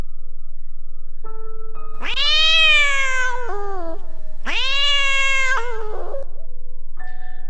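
A cat gives two long, drawn-out meows, loud and close, set against a faint sustained tone and a low steady hum.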